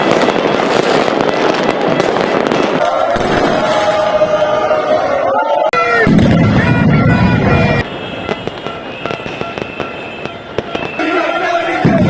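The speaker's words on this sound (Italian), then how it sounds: "Naturalmente in questa grande festa non potevano mancare i botti qua a Napoli" Fireworks and firecrackers go off across Naples to celebrate Napoli's Italian league title. Loud, dense bangs and crackles ring out repeatedly over a noisy crowd, with some whistling bursts partway through.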